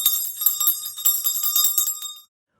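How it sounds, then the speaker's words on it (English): A job bell rings in rapid repeated strikes at a law school hooding ceremony, bright metallic tones ringing steadily for about two seconds, then stopping abruptly into silence. "I'm ringing the job bell in your honor"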